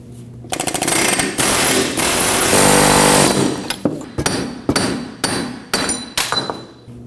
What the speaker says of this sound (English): To remove the hub, I'll be using an air hammer with a socket on the end.